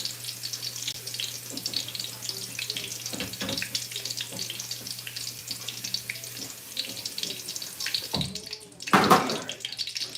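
Peppers are washed under a running sink tap, giving a steady splashing water stream with handling clatter, then a louder burst of splashing near the end, with no speech.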